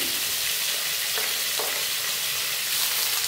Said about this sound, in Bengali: লাল করে ভাজবো।